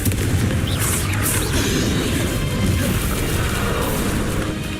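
Confringo, a blasting spell in the game Hogwarts Legacy, erupts in a loud, rumbling explosion during a boss fight, a sustained, heavy boom with crackling debris that stays powerful throughout before easing slightly at the end.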